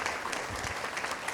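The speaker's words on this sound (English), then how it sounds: "Let's give Gretchen a round of applause" A brief round of audience applause for a presenter at a talk on MS care, soft and fairly distant, steady clapping from a modest crowd.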